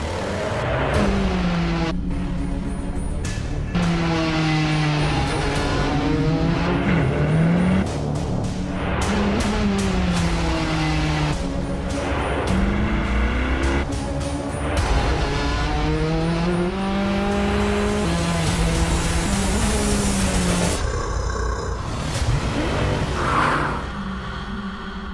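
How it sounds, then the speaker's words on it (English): A Chevrolet Corvette C8.R race car on track, loud and close, its engine revving and shifting through gears with rising and falling pitch sweeps, and brief tire noise as it keeps accelerating. "That C8R sounds insane."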